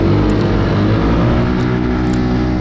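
A tuned KRV 180 motorcycle rides fast along a road in Taiwan, its engine droning loud and steady under heavy wind rumble, with no talking.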